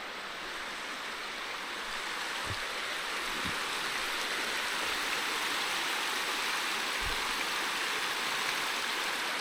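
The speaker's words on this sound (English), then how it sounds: "Pretty sure this is the Hunter River." Hunter River flowing beside a pedestrian bridge: a steady, broad rush of moving water, continuous and moderately close, with a few faint low thumps and no talking.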